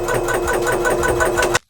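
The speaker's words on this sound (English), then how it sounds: "So now the tank is ready to receive air from the compressor." Electric scuba dive compressor aboard a small sailboat charging an air tank, a steady loud rhythmic mechanical chugging with fast regular pulses that cuts off abruptly near the end.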